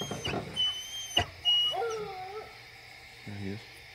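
Outdoors on a raccoon hunt, a hound bays on a track, a few distant drawn-out howls and yelps trailing off, faint against the night quiet, with brief human noise nearby.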